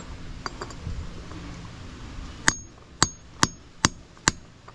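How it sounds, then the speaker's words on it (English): Hammer blows driving bearing races into a trailer wheel hub: five sharp metallic strikes about half a second apart, close and loud, following some quieter taps and shuffling. "Listen to the hammer. You'll hear it when"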